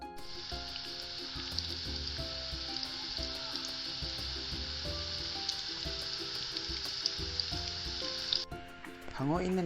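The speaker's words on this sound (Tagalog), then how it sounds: "Sa mainit na mantika, ating ipiprito ang chicken fingers sa loob ng 2 minuto" Vegetarian chicken fingers frying in hot oil, a steady bright sizzle that runs unbroken and fairly close, with soft background music underneath and a brief clatter near the end.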